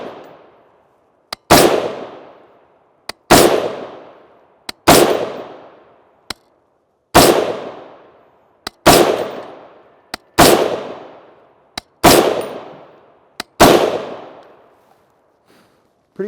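Eight loud, sharp .308 rifle shots from a Palmetto State Armory PA-10 with a 16-inch barrel, fired at a steady pace about every one and a half to two seconds, each with a fast crack and a decaying echo, and no voices.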